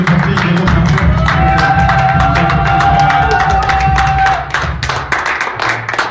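A church congregation applauds and acclaims during a celebration of the DRC's independence anniversary, a steady dense roar of clapping and crowd voices, loud and continuous, easing slightly near the end.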